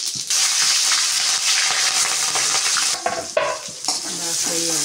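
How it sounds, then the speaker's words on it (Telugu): Whole spices such as cinnamon and cardamom frying in a pan, a loud, steady sizzle with stirring scrapes throughout, ending in a few brief clatters and faint noises. "బాగా ఫ్రై అవ్వాలి"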